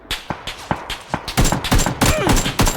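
Gunfire rings out in the video game PUBG: Battlegrounds on the Erangel map in solo play: rapid, close bursts of shots that start spaced and grow into dense, loud volleys.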